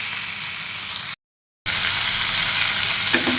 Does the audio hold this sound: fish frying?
yes